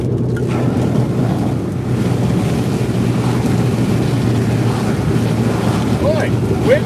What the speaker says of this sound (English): Boy, the wind is just cooking here.